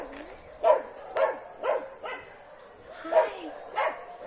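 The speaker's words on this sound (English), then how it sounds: "I'm in the kennel with the least socialized dogs and they are so scared." Scared, poorly socialized dogs barking in a kennel, about seven short, sharp barks and yips at uneven intervals, fairly close, with a faint background murmur.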